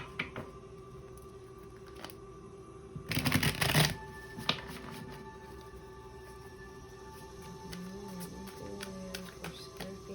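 Tarot cards shuffled in one brisk, loud burst lasting under a second, then quiet room tone with a faint steady hum and a few small soft handling clicks.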